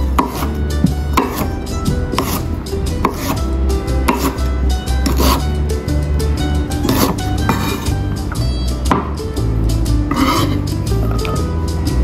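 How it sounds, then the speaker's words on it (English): A knife slices ginger on a cutting board with steady, close, repeated chops in an irregular rhythm that runs throughout, with no talking. "Sliced ginger."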